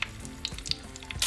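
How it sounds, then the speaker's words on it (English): Tomatillos fry in hot oil in a pan, giving a steady close sizzle with crackling pops and brief bursts of spattering, loudest at the end. "we're going to start to place our tomatillos on our pan and begin to fry them"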